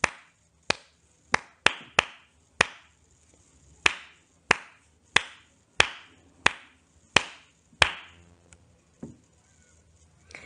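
Hands clapping a rhythm pattern alone, a dozen or so sharp dry claps in an uneven rhythm of quick pairs and longer gaps, close and clear with brief decays between hits.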